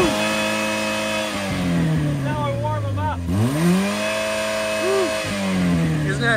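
A Pontiac G6 engine revs hard several times in close succession, each rev climbing in pitch then dropping back to a steady idle, loud and near with no one talking.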